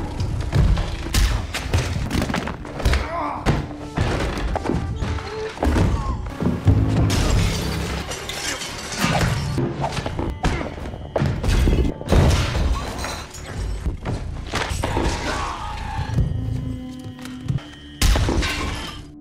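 Fist fight between a man and his target in a gangster film, a dense run of loud thuds, smashes and breaking impacts in quick irregular succession.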